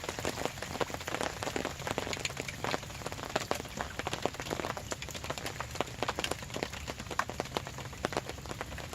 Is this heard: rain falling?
yes